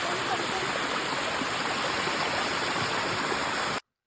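A clear river spills over rocks like a small waterfall, giving a steady, loud, broadband rush of water that holds even throughout and then cuts off abruptly near the end.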